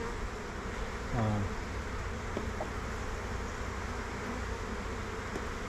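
Honey bees swarming around a frame from an 8-frame hive, a continuous close buzzing drone with individual bees swooping past, one louder pass early on.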